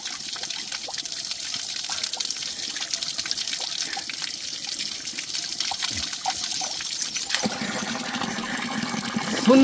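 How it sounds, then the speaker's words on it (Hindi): Cold mountain stream water in an Uttarakhand village trickles and gushes steadily nearby, with a louder splash toward the end. "ठंडा है, बहुत ज़्यादा ठंडा है यहाँ का पानी।"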